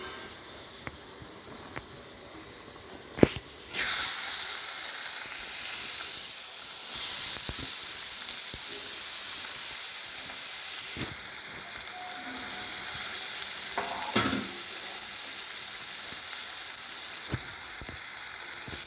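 Onions dropped into hot oil in a pan for an ivy gourd (kundru) masala burst into a loud, steady sizzle after a few quiet clicks, frying close up with occasional stirring scrapes throughout.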